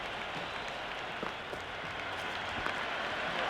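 Steady crowd noise and applause from a stadium in the Cricket 26 video game during an IPL match, a continuous broadband roar with scattered claps, moderately loud and without speech.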